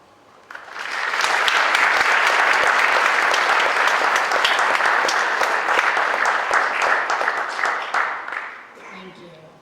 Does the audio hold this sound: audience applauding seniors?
yes